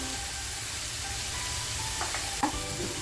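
Steady sizzle of onion, tomato and coriander frying in a pan, continuous and close, with a couple of faint utensil clinks near the end and no talking.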